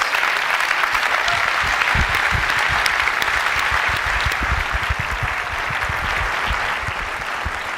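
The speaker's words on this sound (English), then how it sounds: "I'd like to give him a round of applause." Keynote audience applauding as the Intel CEO walks on stage at a 2008 Apple MacBook Air launch event, dense sustained clapping from a large hall, loud and continuous, tapering slightly toward the end.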